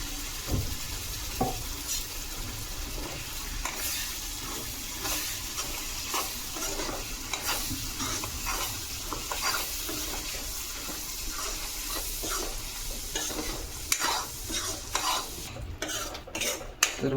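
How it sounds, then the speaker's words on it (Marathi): Ground masala paste sautéed in a pan for a tuna fish curry, with continuous frying sizzle and steady rhythmic stirring and scraping throughout, plus a few sharper clinks near the end. "तर वाटण आपण मस्तपैकी परतून घेतलंय."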